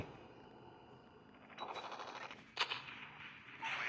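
Bursts of automatic gunfire ring out in Call of Duty Mobile, fairly faint, with a sharp shot and rapid rattling strings over a low game background.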